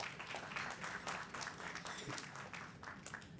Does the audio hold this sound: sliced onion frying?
no